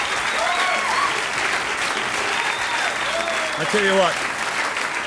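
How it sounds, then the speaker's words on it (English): Concert audience in Australia applauding, a dense continuous roar of clapping filling the whole stretch while someone talks over it close to the microphone. "We're not going to step on this applause."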